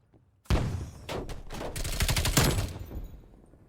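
A MAC-10 submachine gun fires in Call of Duty Cold War as a sudden burst of rapid, close, loud shots. The burst lasts about two seconds and fades into a short tail.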